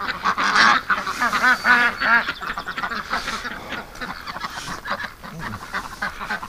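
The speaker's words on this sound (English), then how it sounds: "Okay, that's a Muscovy male." Muscovy ducks, including a male, at a duck rescue with over a thousand ducks, giving repeated close calls and honking bursts over the busy murmur of many birds, with some faint human voice mixed in.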